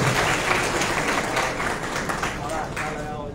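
Applause at a political press conference in Gujarat as new members join the Congress party: dense, steady clapping from a crowd fills the whole moment, with voices mixed in.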